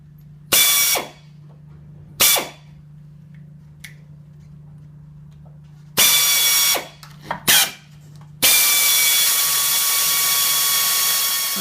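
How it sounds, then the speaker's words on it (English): A power drill whines in several short bursts, then runs continuously at the end, drilling through a steel chassis box member close by over a low steady hum. "mark and then drill through this existing box member"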